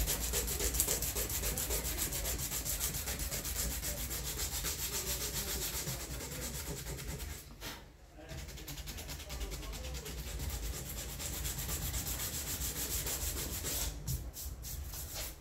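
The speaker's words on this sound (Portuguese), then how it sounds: "Desse jeito, ó, que eu tô lixando" Continuous rhythmic sanding, a rapid scratchy rubbing of abrasive paper against a hard cattle horn knife handle, close up with a brief pause midway.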